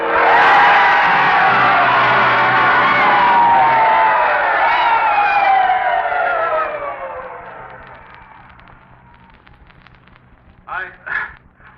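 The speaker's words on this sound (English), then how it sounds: "And the crowd rose to its feet, and they told him they loved him." Baseball stadium crowd rising and cheering for Lou at a Yankees tribute, a loud roaring swell that fades gradually over several seconds, followed near the end by a couple of brief, sharp bursts.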